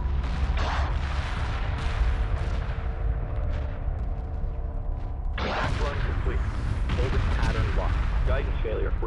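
Weapons fire during a space battle in the strategy game Homeworld: dense, continuous blasts and rumbling with a sharp burst partway through, under radio-style unit voices.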